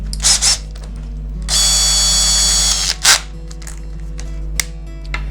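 An electric drill bores a 2.5 mm pilot hole into a Telecaster guitar body while a jack socket is being fixed: a couple of short bursts, then a sustained high whine for about a second and a half, ending with one more brief burst.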